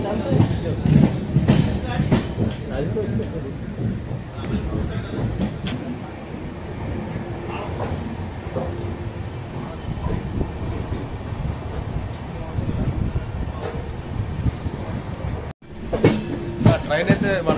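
A passenger train on the Visakhapatnam to Renigunta route rumbles along near Rajahmundry, with a steady rolling clatter of wheels and carriages heard from inside, under ongoing talk from passengers.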